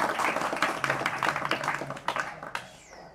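A small audience claps for Rajesh, a brief burst of scattered hand claps at close range that thins out and fades after a couple of seconds.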